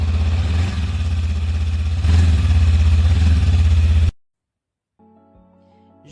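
Honda CMX 500 motorcycle running on its stock exhaust, a close, loud steady idle with low throbbing pulses and a slight rise partway, cutting off abruptly before faint other sounds.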